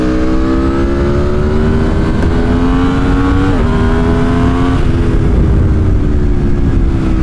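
An Aprilia Tuono 1100 Factory motorcycle accelerates hard on public streets, its engine roaring loud and close with a rising pitch, a brief dip as it shifts gear, then climbing again under steady wind noise.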